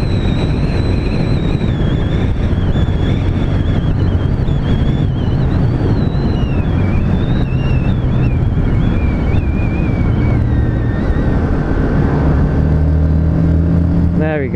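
A car overtakes on a windy road, its engine rising and then fading over a constant heavy wind rumble, with a second vehicle's tone shifting in near the end.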